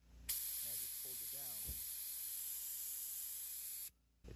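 Compressor-driven bleeder machine drawing clutch fluid from a Fiat 500, a loud steady airy hiss starting abruptly, holding for over three seconds and then cutting off. Someone speaks briefly over its start.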